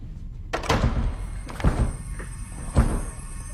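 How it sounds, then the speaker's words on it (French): Heavy thumps against a door as someone tries to break it open, three loud blows spaced about a second apart with low rumbling in between. "t'as cassé la porte"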